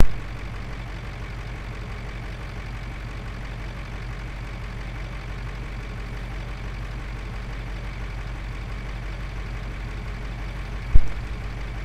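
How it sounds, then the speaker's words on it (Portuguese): A truck engine idles steadily in American Truck Simulator at the Tucson racetrack, a low constant rumble holding throughout with one brief sharp click near the end. "Gostaram do ronco do motor?"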